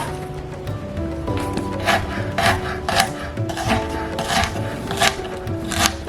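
A knife rough-chops garlic on a wooden board in a home kitchen, with repeated irregular chopping taps that are close and fairly loud.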